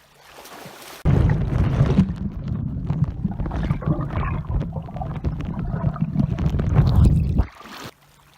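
A small boat is pushed from a rocky shore into Mediterranean sea water, a loud, close rushing and scraping roar of hull and water that starts abruptly and lasts about six seconds before cutting off.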